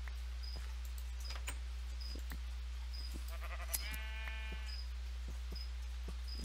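Sheep in a Minecraft-style zoo game give a short bleat in a quiet scene, with chirping insect ambience and soft clicks around it.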